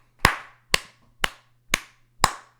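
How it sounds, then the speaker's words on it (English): Five single, evenly spaced hand claps ring out alone, crisp and fairly close, each with a short decaying tail over a faint steady hum. "Everybody, round of applause."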